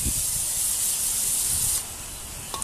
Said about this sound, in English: You want to use the brake cleaner.